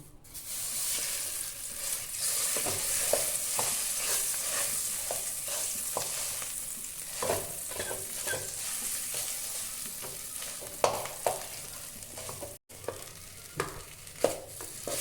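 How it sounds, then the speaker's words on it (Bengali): Grated potato frying in hot ghee crackles in a steady close sizzle, with repeated scraping of a spatula stirring the pan and a few louder knocks near the end. "এটা বন্ধুরা ঘিয়ের মধ্যে খুব ভালো করে ভেজে নিতে হবে।"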